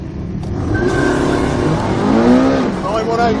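Ducati 1199 superbike, Porsche 918 Spyder and McLaren P1 launching from rest in a drag race, engines roaring loud and rising in pitch as they accelerate, with people talking over the noise.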